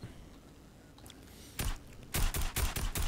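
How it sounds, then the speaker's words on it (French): Distant gunfire in the Fortnite video game, a few quiet shots first, then several loud clustered bursts of rapid shots toward the end, with no voices. "On tente des balles de loin côté Savage"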